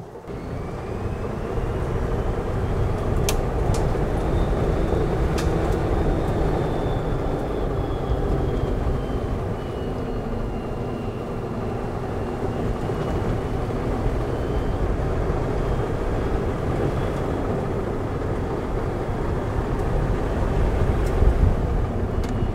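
A Polaris Ranger EV electric utility vehicle drives along with a continuous, fairly loud rumble of tires and chassis and a faint whine that rises and falls, steady throughout with no talking.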